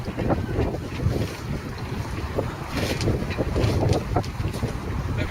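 Sailing yacht White Lady under way between Falmouth and Portsmouth: loud, constant wind buffeting the microphone over a low rumble of rushing water and waves against the hull, with no voice.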